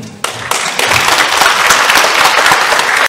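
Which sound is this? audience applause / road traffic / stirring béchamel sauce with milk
audience applause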